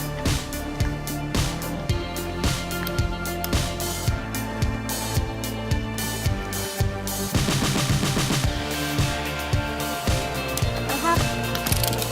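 Nerf N-Strike Strongarm blaster with its cylinder rotating, giving dense rapid ratchet clicks in repeated bursts, close and fairly loud with no talk.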